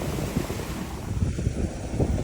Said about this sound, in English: we're being pushed around by the waves and the wind.